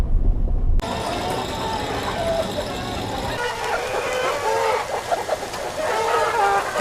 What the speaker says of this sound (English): So I get to go feed the chickens.